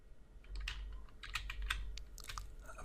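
A git command is typed on a computer keyboard, heard as a fairly quiet, close run of quick key clicks in uneven bursts with no voice.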